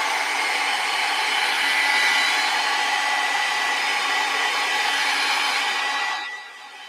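A handheld hair dryer blowing steadily on wet acrylic paint, a loud continuous whooshing roar that holds level for about six seconds before the motor cuts off.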